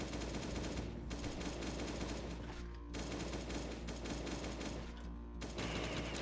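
Dense, continuous machine-gun fire fills the scene in the zombie survival game Last Day on Earth: Survival as turrets are shot, a loud unbroken rattle with only brief dips.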